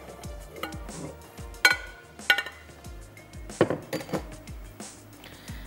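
Utensils knock and clink against a large bowl while flour coating is mixed, giving a series of sharp metallic taps and scrapes at an irregular rhythm, close and fairly quiet.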